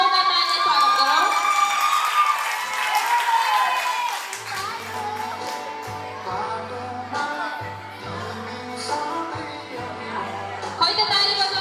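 At an anniversary program for a dance and fitness studio, an audience claps, cheers and whoops for student award winners, loud and crowded at first with children shouting, then thinning as music and a voice carry on underneath.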